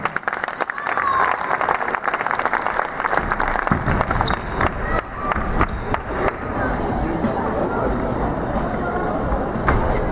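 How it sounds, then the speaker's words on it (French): Sustained applause from an audience at a non-classical kung fu demonstration, dense clapping and crowd noise filling the room at steady loudness throughout. "On les applaudit bien fort."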